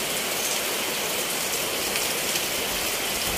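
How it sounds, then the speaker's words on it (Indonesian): Heavy rain pours at a motorcycle repair workshop, a dense, loud, unbroken hiss of drops hammering surfaces with no voices over it. "Suasana di bengkel malah hujan lur."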